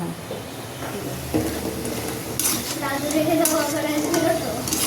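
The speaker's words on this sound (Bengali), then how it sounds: "গজাটা আস্তে আস্তে ভাজতে হয়, খুব আস্তে ভাজতে হয়" Gaja, a Bengali sweet, fries slowly in oil with a soft, steady sizzle and occasional stirring scrapes, while a voice talks over it in the later part.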